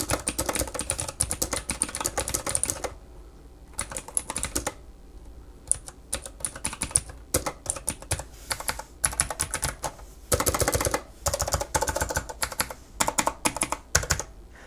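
Close, clacky typing on a Razer Turret lap keyboard for Xbox One and PC, coming in rapid bursts of keystrokes separated by short pauses, with no talking.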